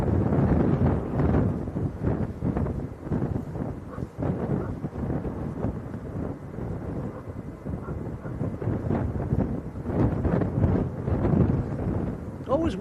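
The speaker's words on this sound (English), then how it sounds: "Always windy up here, Tom, isn't it?" Strong wind buffets the microphone outdoors at Leeds Bradford airport, a low, gusting rumble that swells and eases continuously from start to finish.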